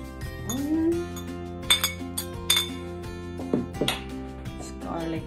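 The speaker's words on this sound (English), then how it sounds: "So now we're gonna mix all together all the ingredients" Clinks and knocks of utensils against a glass bowl while meatball ingredients, onion among them, are stirred together, with scattered sharp taps and scraping and brief voice sounds between them.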